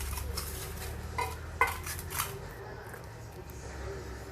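A plate handled at a home meal, with soft clinks and scrapes of dish and cutlery, a few brief louder knocks, over a low background hum.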